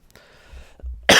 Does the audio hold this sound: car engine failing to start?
no